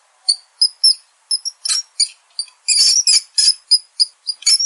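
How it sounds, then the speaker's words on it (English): Repeated short, high-pitched squeaks of a mouse in quick irregular bursts, close and fairly loud, with no other sounds around them. "Mouse squeak."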